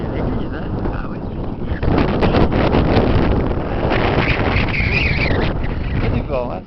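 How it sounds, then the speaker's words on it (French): Wind buffets the microphone in a garden on a spring day, a loud, continuous low roar and rumble that swells and eases, while a person talks in French over it. "c'est du vent, hein. C'est un peu désagréable"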